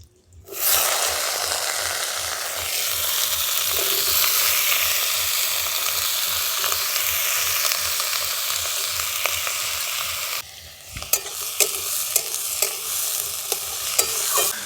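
Potato, eggplant and green chili hit hot oil over fried tempering spices, bursting into a loud steady sizzle with rhythmic stirring scrapes; a brief lull near the end gives way to sharper clacks of the spoon against the pan.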